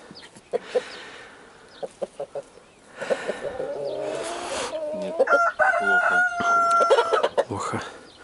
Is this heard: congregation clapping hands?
no